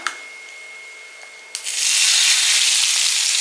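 Hot sesame oil tempered with four dried red chillies is poured into a two-onion chutney. A quiet stretch is followed by a sharp onset of loud, sustained, close sizzling hiss.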